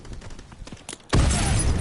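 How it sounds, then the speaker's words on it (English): Turret gunfire in the WWII beta shooter erupts suddenly as a loud, dense burst of blasts after about a second of quieter game ambience, filling the rest of the clip. "Sounds like somebody's on that turret."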